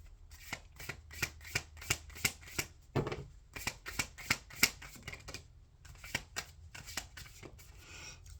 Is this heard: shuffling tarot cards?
yes